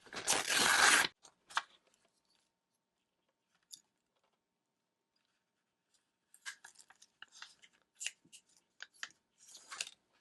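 Paper towel is torn off a roll in one loud ripping burst, followed by quiet gaps and scattered soft crinkles, taps and handling noises.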